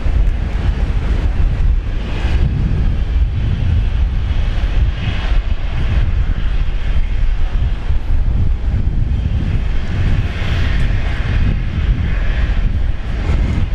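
A Boeing Dreamliner airliner at Brisbane Airport gives a steady, loud broadband jet roar with wind buffeting, holding for the whole stretch with no talk.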